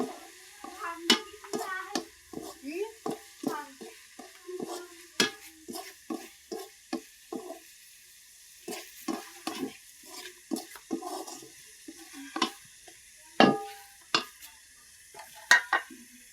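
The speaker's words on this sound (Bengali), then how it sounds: "একটু ভাজা ভাজা করে নিব চিংড়ি মাছটাকে" Shrimp and onion frying in oil for a leafy greens dish, heard as a quiet background with a run of sharp, irregular clinks and scrapes of stirring spread across the whole stretch, no speech.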